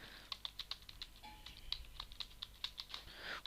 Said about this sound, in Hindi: तो अब यहाँ पे कुछ टाइप करते हैं।